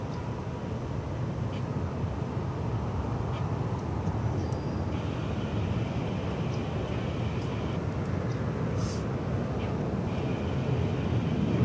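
American Airlines jet airliner on its takeoff roll at DFW Airport, a steady broad roar that holds at a moderate distance throughout, with no one talking.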